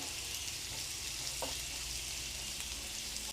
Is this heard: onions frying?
yes